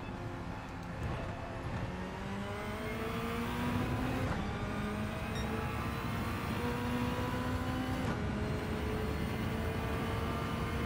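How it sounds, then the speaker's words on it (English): A GT1 race car in Gran Turismo 7 revs hard and steadily, its loud engine note climbing in sustained pitch sweeps with brief gear-change dips, alone without talk. "rev this thing out if you're in the GT1"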